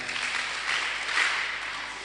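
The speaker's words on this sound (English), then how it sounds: "Let's see your Chachin clap" Young audience at a Day of the African Child roadshow breaking into a steady, dense wash of clapping that holds fairly evenly for about two seconds without talk.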